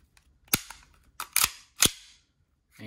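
Atomic Armory 1911 blowback toy pistol firing, with sharp, close snapping shots in an uneven sequence of about four cracks, each with a quick metallic clack from the slide, and no talk.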